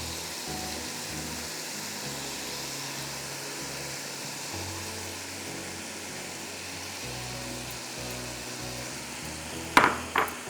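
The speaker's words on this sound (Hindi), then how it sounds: "दो मिनट भून लें बस" Khoya (milk solids) frying in a pan gives a steady, even sizzle that runs throughout, with a couple of sharp clicks near the end.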